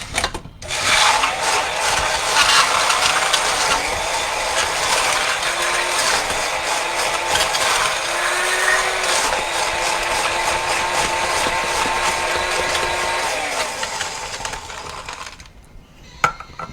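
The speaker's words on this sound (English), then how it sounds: "we're just going to stick this under the blender" A blender runs for about thirteen seconds, blending a pina colada with a loud, steady whirring grind that has a rattling edge, then winds down and stops.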